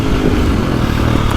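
A 2025 KTM 350XCF dirt bike engine revs close by, a loud, continuous, throaty bark that holds steady with no speech over it.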